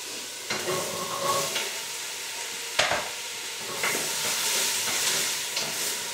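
Onions and carrots stirred in a pot for a French carrot chicken dish, with a soft frying hiss under repeated spoon scrapes and one sharp knock, close by.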